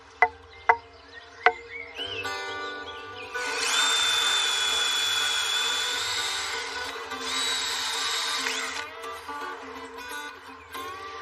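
Power drill boring holes through straight hazel wood sticks, a steady high whine running in two long bursts with a short pause between, preceded by a few sharp knocks of wood being struck, close and fairly loud.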